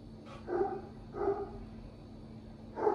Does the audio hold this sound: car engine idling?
no